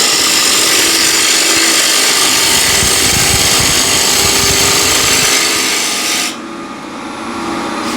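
A wooden bowl spinning on a lathe with a gouge cutting and cleaning up, giving a loud continuous rough scraping and shearing roar that drops off abruptly near the end to a quieter hum.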